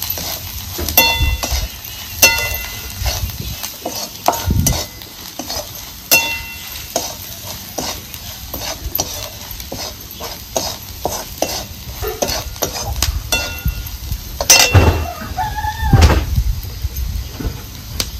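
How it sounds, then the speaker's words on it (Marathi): Bhaji ingredients being stirred and sautéed in a pan for a village-style black-eyed pea dish, with steady scraping and clinking of a spoon against the pan over a low sizzle, close and continuous with occasional louder knocks. "मला सगळं आपल्याला परतून घ्यायचं आहे."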